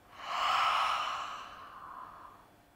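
Ujjayi yoga breath, a single slow breathy exhale voiced as a soft open "ha," close and gentle, swelling quickly and tapering away over about two seconds.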